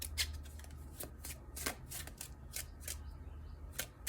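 Oracle cards shuffled by hand during a card reading, a run of soft crisp riffling bursts at an uneven rhythm over a low steady hum, close and fairly quiet, with no talking.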